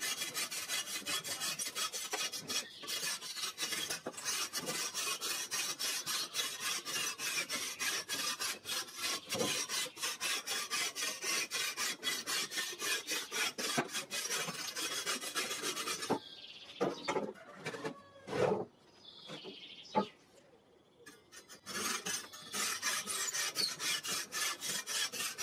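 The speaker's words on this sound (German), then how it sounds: "Ich säge also die vier Kanten senkrecht weg." A hand saw rasps steadily through the corners of an aerated concrete (Ytong) block being shaped into a penguin sculpture, a dense continuous grinding scrape that breaks into a few short strokes and pauses near the end.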